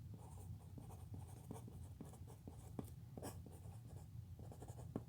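Chalk or marker scratches on a board during a lecture on Fourier transforms, a quiet rapid series of short strokes and taps in uneven rhythm, close and faint, with no talk.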